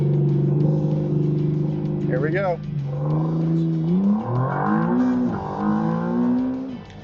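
McLaren Artura launching hard in launch mode on an empty road, engine note climbing through quick gear changes as it accelerates, loud and close, with someone speaking briefly at the start.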